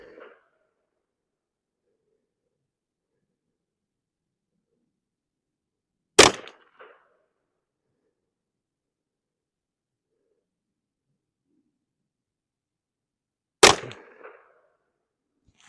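Two sharp rifle shots from a Ruger 10/22 firing a group, spaced several seconds apart, each a loud crack with a short outdoor echo and near silence in between.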